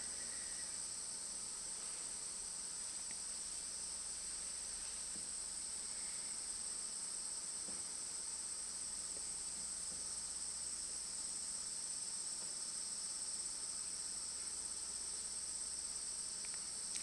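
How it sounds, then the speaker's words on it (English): Crickets chirping through a summer night, a continuous dense high trill held steady and even throughout, with faint background noise and no voices. "someone said, the deafening sound of the crickets."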